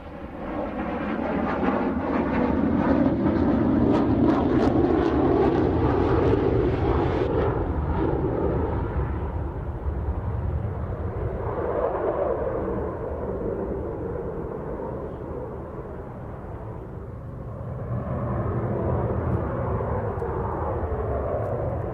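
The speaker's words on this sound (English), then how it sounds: "exposing the powerful lift fan that allows the aircraft to hover" An F-35B stealth fighter hovering on its Rolls-Royce-built lift fan at an air show, a loud, continuous roaring jet rumble with a thick, sustained blast that swells and eases slightly, heard alone.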